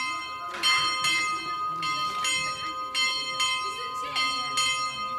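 The church bell of Colere, in the Carbonera hamlet near Bergamo, rings in repeated ringing strokes about once a second, bright and resonant with lingering hum, with faint voices in the background.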